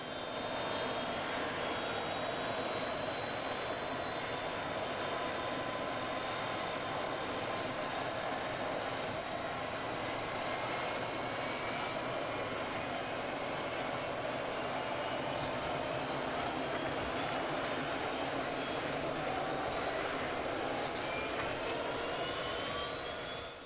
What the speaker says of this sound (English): The main hope now is that the noise of the helicopter will frighten him away.